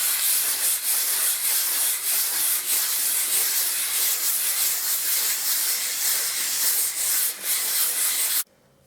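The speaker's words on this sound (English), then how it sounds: "180 sandpaper on a block, and rub this down, circular motion" 180-grit sandpaper on a block rubs in a circular motion over dried plaster filler, giving a steady, close, hissing scrape that runs continuously for about eight seconds and then stops.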